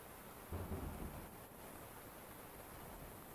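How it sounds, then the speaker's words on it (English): Steady rain with a low, distant rumble of thunder rolling in early, a soft broadband wash that continues evenly after the rumble fades. "And you hear from a distance sound of thunder."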